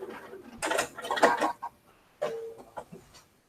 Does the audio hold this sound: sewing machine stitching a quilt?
yes